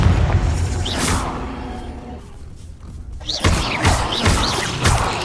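Confringo blasting spells explode in the Hogwarts Legacy video game: a few heavy booms and thuds, then a quieter lull followed by a fresh burst of sharp impacts.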